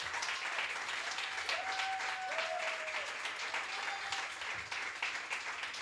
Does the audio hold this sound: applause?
yes